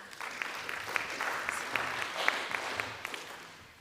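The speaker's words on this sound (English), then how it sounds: "If everyone could give Emma a round of applause." Faint applause from a small audience after a talk on managing ewes through pregnancy scanning, scattered distinct claps over a light patter that gradually fades away.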